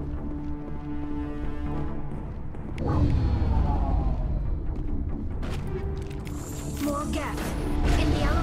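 Elevator machinery in the video game Mass Effect runs as a steady low mechanical drone with creaking, ratcheting clanks that swell partway through and continue to the end.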